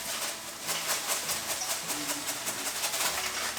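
Minced garlic tossed into hot oil, a steady broadband sizzle and hiss that pulses slightly, close and fairly loud, with no talking.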